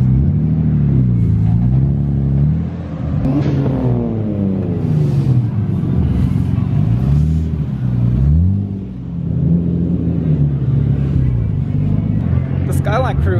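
Nissan R32 Skyline cars rumbling with a deep, steady engine drone that swells and dips, including a rising rev, beneath continuous nearby chatter at a car meet.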